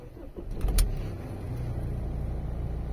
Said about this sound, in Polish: Teraz wentylator działa, przed chwilą nie działał.